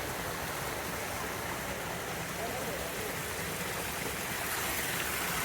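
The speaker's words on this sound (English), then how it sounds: "Got a little more waterfalls" Rushing water from a garden waterfall in San Antonio, Texas fills the scene as a steady, dense broadband roar, close and constant throughout with no breaks.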